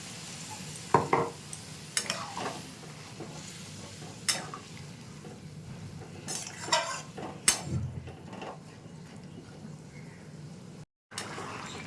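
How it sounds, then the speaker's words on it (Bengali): A spoon stirs chickpea and potato curry in a pan, giving scattered scraping clinks against the metal over a low simmering sizzle, with a brief drop to silence near the end. "একটু নেড়ে দিচ্ছি।"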